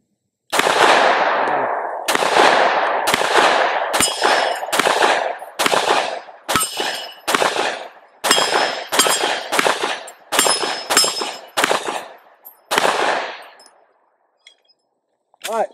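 Sharp, loud pistol shots from a Smith & Wesson Performance Center M&P9 M2.0 Compact Carry Comp fire at a steady, quick pace, about fifteen cracks with ringing decays, then stop near the end.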